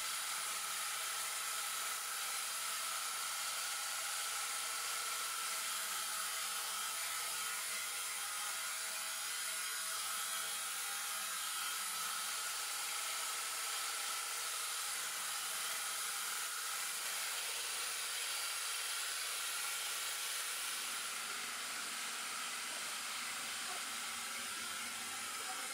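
A quiet diaphragm septic tank air pump blows chips away during milling, making a steady, even hiss of rushing air that runs unbroken through the whole stretch with no talking.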